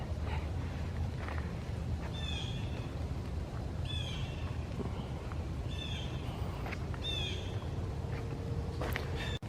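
Birds chirp and call in short repeated phrases across a quiet, foggy park on a cloudy morning, set against a steady low background hum, with no one talking.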